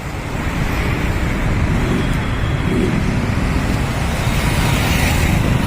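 Steady, loud roadway noise at a busy intersection near the Noida stadium, with cars and other vehicles rumbling past continuously and no clear individual horn or voice standing out.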